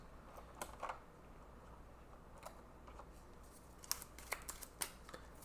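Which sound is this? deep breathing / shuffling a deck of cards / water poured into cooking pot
shuffling a deck of cards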